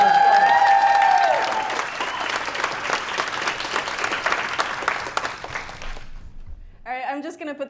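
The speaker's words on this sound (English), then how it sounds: "give her a round of applause." A conference audience at a programming event in New York applauds loudly, a dense sustained roar of clapping with a little cheering that gradually thins and fades out before a voice begins speaking at the very end.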